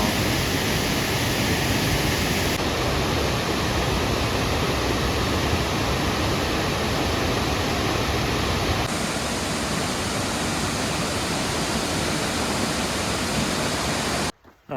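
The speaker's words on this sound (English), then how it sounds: "just left Burney Falls. Beautiful, beautiful waterfall." Burney Falls in Northern California roars as a steady, close broadband rush of falling water. It stays loud and unbroken for the whole stretch, then cuts off abruptly at the very end.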